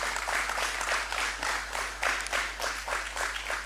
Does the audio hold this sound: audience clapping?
yes